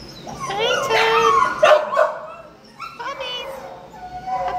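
A dog at an animal shelter, Animal Care Services in San Antonio, Texas, gives yips and whimpering whines in short bursts, fairly close, while a person talks over it.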